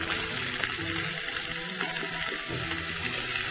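Chopped spinach hits a hot frying pan and sizzles, a loud, even hiss of frying that keeps going without a break, close up and alone.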